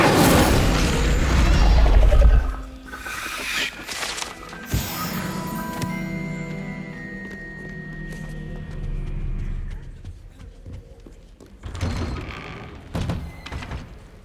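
The Incendio fire spell from the Hogwarts Legacy video game lands as a loud, boom-like burst at the start. Scattered thuds, clunks and mechanical rattles follow, with faint voices in the background.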